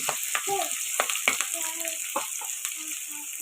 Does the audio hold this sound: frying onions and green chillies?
yes